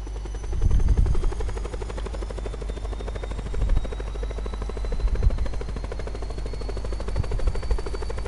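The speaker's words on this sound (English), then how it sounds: "Wait, can I drive this chopper?" Helicopter in the Black Ops 4 Blackout video game, a loud, steady rotor chop and engine whine heard close up and continuous, with a few low thumps underneath and no speech.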